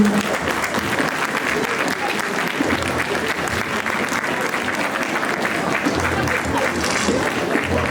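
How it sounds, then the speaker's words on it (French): Sustained, loud audience applause for cosplay contest winners at a geek convention stage event, dense and steady throughout with crowd noise mixed in. "Donc vous pouvez encore les applaudir"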